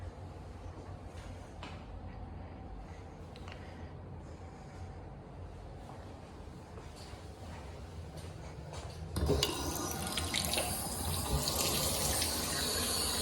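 One of a pair of double sinks in a move-in home inspection: a quiet room with faint handling noises, then the faucet is turned on and water pours loudly and steadily into the basin.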